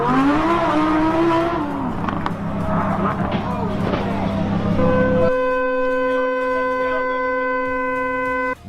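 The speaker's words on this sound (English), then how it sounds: "Lamborghini crashed while showing off." A Lamborghini crashes on the road while being shown off, heard as a loud rush of engine and tire noise, then a sustained tonal horn-like drone after the impact.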